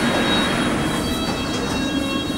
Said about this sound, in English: This is Wimbledon, where this train terminates.